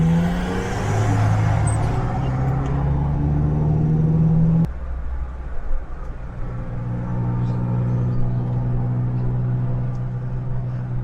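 Suzuki Mighty Boy with a 3-cylinder 800cc engine running, a low steady rumble with a small shift partway through, heard close with occasional voice over it.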